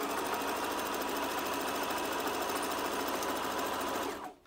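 A sewing machine back-tacks and then stitches the full length of a fabric tube, a fast, steady mechanical whir at close range that stops abruptly at the end.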